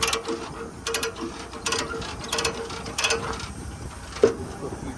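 A loose load binder being cranked on a lowboy trailer, heard as a close series of sharp ratcheting clicks in short bursts roughly every second, with a metallic clank near the end.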